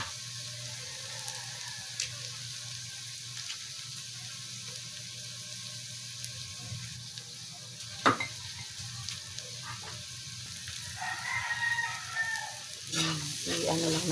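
Garlic and chicken fry for chicken pastil, giving a steady, moderate sizzle in a pan with occasional clinks and stirring scrapes, growing a little busier near the end.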